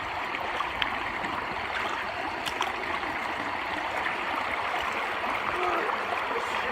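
Fast-flowing creek water rushing over rocks and gravel, a steady broadband wash with soft gurgles, continuous and fairly close, no talking.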